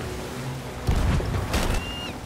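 Two deep booming video-game ship cannon blasts about half a second apart, each with a broad rumbling burst, over a steady low background hum.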